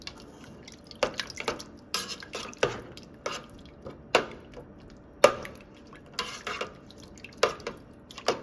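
A spoon stirs German goulash thickened with tomato paste in a pot, giving close, irregular clinks and soft wet scrapes roughly every second, with no talking.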